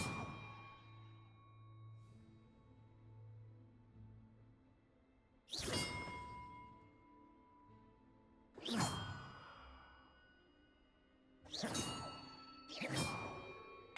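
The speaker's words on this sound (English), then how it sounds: "Perhaps the map contains clues about the order I'm supposed to ring the bells in." Bells in a Hogwarts Legacy puzzle chime in separate bright, ringing strikes with long decaying tails, four spaced hits, the last two close together, over a quiet hum from the game.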